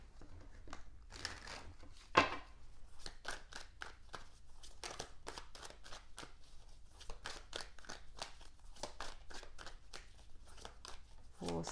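Tarot cards handled and laid out, with a fast run of soft crisp snaps and flicks in quick rhythm, close and quiet, one sharper slap standing out near the start.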